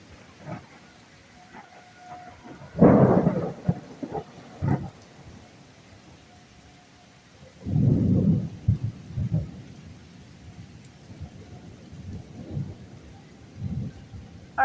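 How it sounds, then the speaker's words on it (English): Thunder rumbles twice in a storm, two loud rolling bursts a few seconds apart, over soft steady rain, with faint scattered sounds between. "we got our thunder and lightning"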